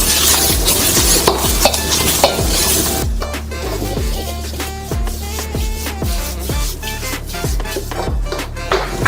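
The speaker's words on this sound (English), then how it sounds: "Stir that around, add your veggies." Napa cabbage, bean sprouts and celery stirred and frying in a hot pan, with a dense sizzle under repeated scraping strokes of a utensil against the pan, close and loud.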